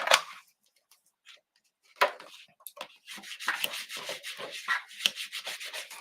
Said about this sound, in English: And open it up and give it a little burnish.